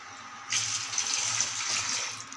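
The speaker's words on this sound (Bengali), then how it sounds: "এই ডালটাকে আমি ভালো করে এখন ধুয়ে নেব" Lentils being washed under running water, a tap gushing in after a brief quiet start and pouring steadily and close until the end.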